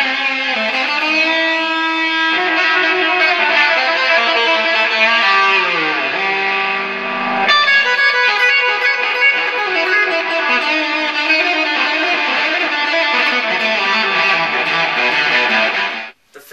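A heavily distorted, fuzzy electric guitar through a Six String Effects Carbonator pedal plays sustained, spacey notes drenched in reverb and echoing delay, loud and continuous with no talking.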